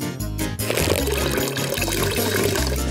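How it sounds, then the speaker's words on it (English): Water pours steadily from a small piggy-shaped water dispenser, a continuous loud gushing and splashing that fills the whole moment with no speech. "Look at this cute little water dispenser."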